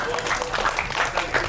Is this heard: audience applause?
yes